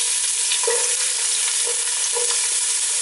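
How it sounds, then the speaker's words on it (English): Diced onion sizzles in hot olive oil in a large pot, a loud, steady hiss with a few soft clicks of stirring and no voices. "I'm heating up 2 tablespoons of olive oil. Then I'm going to go ahead and add 1 medium diced onion"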